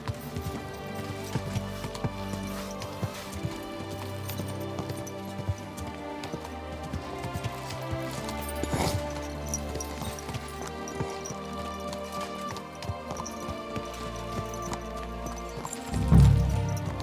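Horse hooves clopping steadily in Kingdom Come: Deliverance 2 under layered game music and ambient tones, with a louder thump near the end.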